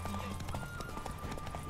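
Horse hooves clip-clopping in the video game The Witcher 3, a quick rhythmic run of hoofbeats under a low game hum and steady tones, fairly quiet overall.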